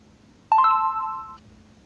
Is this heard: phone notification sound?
yes